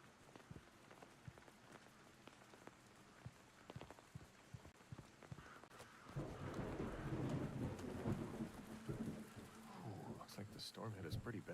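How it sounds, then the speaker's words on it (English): Rain on a tarp in the video game Reveil: scattered drips and taps give way to a steady wash of rain pattering on the tarp, with a low rumble swelling in the second half. "You can hear the rain on the tarp."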